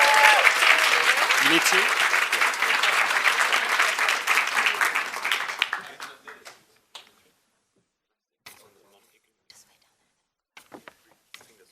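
Audience applause at a coding bootcamp demo day in London, dense loud clapping that fades out after about six seconds, leaving scattered claps, rustling and a brief spoken word.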